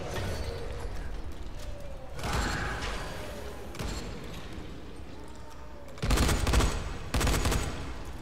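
Shotgun blasts go off in the Dying Light video game, several heavy bursts spaced apart over a steady background of game noise, with the last two louder and closer together.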